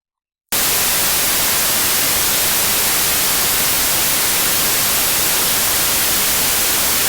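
Noise source of a Complex-1 modular synthesizer: after a brief silence, a loud, steady wash of bright hiss starts abruptly and runs unbroken to the end.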